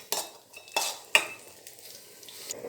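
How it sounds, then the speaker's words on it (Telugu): Dry fruits fry and are stirred in a pan, with three sharp metallic scrapes and clinks of a utensil against the pan in an uneven rhythm over a faint, soft sizzle. "ఇప్పుడు ఏదైతే డ్రై ఫ్రూట్స్ తీసుకున్నామో వీటన్నిటిని ఫ్రై చేసుకుందాం"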